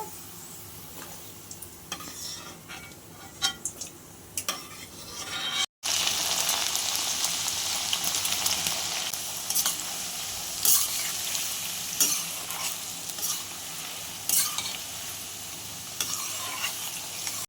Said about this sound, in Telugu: ఇలా మంచిగా బ్రౌన్ కలర్ వచ్చేంత వరకు వేయించుకోవాలి